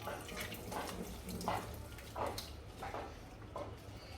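Tap water runs steadily while food is washed in a sink, a continuous splashing wash with soft rhythmic surges, moderately close and without talk.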